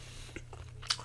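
A spring roll bitten and chewed close to the mic at a late-night mukbang, giving a couple of brief crunchy bites with one sharper crackle near the end, over a low hum.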